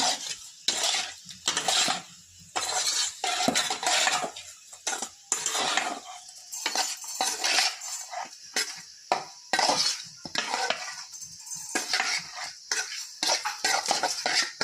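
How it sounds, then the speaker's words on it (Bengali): Pabda fish being mixed by hand or spoon with mustard oil and turmeric in a bowl, giving repeated close wet clinks and scraping bursts with short pauses between strokes, no voices. "পাবদা মাছ তো তেলে দিলে থাকে, তাই একটু সরষের তেল দিই। ভালো করে নাড়ি করে মাখানো।"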